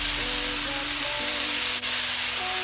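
Pork browning in a pan for Filipino adobo, a steady close sizzle and hiss of frying meat that holds evenly throughout with no talk.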